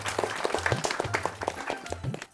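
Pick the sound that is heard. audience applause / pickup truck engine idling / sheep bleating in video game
audience applause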